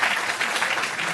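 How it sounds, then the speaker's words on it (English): Audience applauding after a keynote lecture at IHE Delft, a dense, steady burst of many hands clapping in a hall, fairly close and continuous with no talk over it. "we have a round of applause for Rohan for a wonderful lecture."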